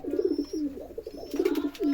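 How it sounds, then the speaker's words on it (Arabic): Pigeons coo softly and repeatedly while eating, a close series of low rolling coos with small pecking and rustling sounds between them. "بصوا بياكل حمام بيحبه"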